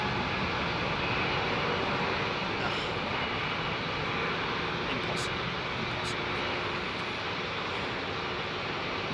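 A plane lands at Heathrow Airport in blustery weather, a loud, steady broadband jet roar filling the whole stretch, with faint voices beneath it.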